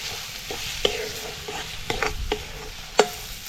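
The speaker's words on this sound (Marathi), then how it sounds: "मसाला असा चांगला परतून घ्यायचा." Homemade red masala with turmeric frying and being stirred in a pan for a Konkan dish, with a low steady sizzle broken by sharp spoon scrapes and clinks at irregular intervals.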